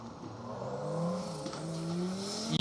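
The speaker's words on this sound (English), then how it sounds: "with Dan's Autoplas Metro 6R4" A Metro 6R4 rally car drives past on a historic rally stage, its engine note rising and shifting as it approaches and passes, loud and close with revving and no talk.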